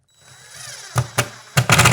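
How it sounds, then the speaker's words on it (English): A power drill drives long Phillips-head screws into wood while mounting Blum Tandem drawer glides in an RTA cabinet, with short whirring bursts and a longer final run, fairly close and loud. "Just run in until your drill wants to stop."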